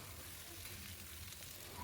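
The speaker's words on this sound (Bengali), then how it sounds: "এঁচড়গুলো দিয়ে দু মিনিট মতো ভেজে নেব" Jackfruit pieces and potatoes frying in oil, a faint, even sizzle running through the short stretch with no voice over it.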